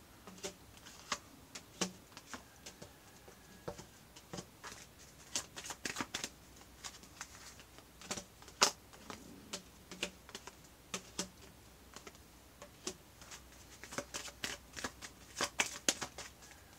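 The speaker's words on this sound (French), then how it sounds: "On va recouvrir toutes les cartes" Tarot cards are shuffled and laid out on a table, a long run of quick close flicks and soft slaps in irregular bursts, quiet and crisp with no talking.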